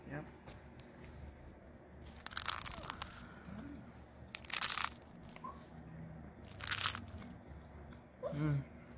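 A few crunchy bites into a peanut butter, bacon and onion sandwich, each crisp burst brief and close, separated by quieter chewing and soft voices talking.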